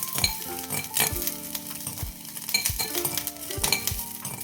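Dried red chillies fry in a pan as a spoon stirs and scrapes them, giving a continuous sizzle with repeated metallic clinks and scrapes at close range.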